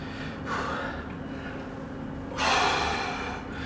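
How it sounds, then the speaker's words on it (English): Heavy, effortful breaths during a squat workout, two strong exhales standing out near the start and later, with steady breathing in between. "Just keep your mind on your breathing."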